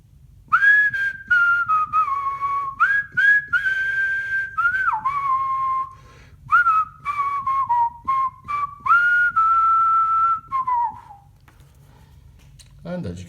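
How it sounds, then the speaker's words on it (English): A person whistles a tune into a microphone, clear, close, bright notes in short phrases with brief pauses between them, sliding between pitches and fading out near the end. "I'm going to demonstrate by whistling into it."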